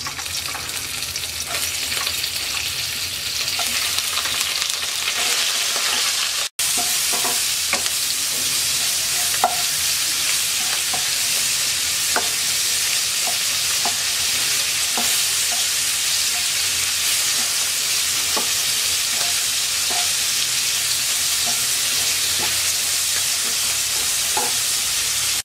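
Prawns frying in a pan of hot oil with a little turmeric and salt, a loud continuous close sizzle lasting throughout with scattered spatter pops and stirring knocks, one brief dropout, no talking.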